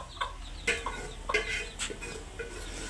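Three young chicks beside a cooker give a few soft, scattered chirps and peeps, close but faint over a low steady background hum.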